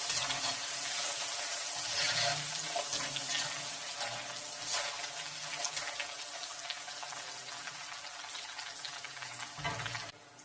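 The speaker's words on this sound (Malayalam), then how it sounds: "കളർ ഓരോരുത്തരുടെ ഇഷ്ടത്തിനനുസരിച്ച് മഞ്ഞൾപ്പൊടി വെള്ളം ഒഴിച്ചു കൊടുക്കാം." Turmeric water poured into hot oil while frying chips sends up a steady, loud hiss and bubbling sizzle that lasts throughout and breaks off just before the end, with no talk.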